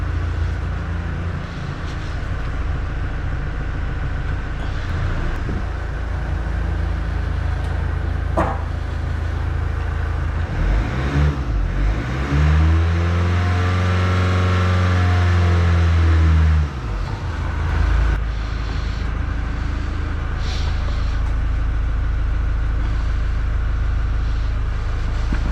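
A Mazda 6 with the 2.2 Skyactiv diesel engine and a blocked DPF idles steadily after starting, a loud, continuous low rumble with a droning hum that rises and falls in pitch midway through, then settles back.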